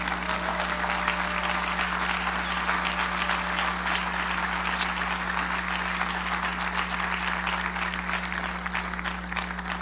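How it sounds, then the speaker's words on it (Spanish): A church congregation claps in steady, dense applause at a fairly low level, with a constant electrical hum running underneath throughout. "Dale un aplauso al Rey."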